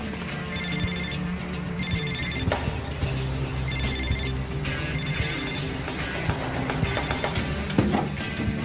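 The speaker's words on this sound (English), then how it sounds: "Hey, Jack, pick up the phone" A telephone rings in repeated bursts, a steady electronic trill that comes back several times over a busy, noisy room tone in a police drama setting.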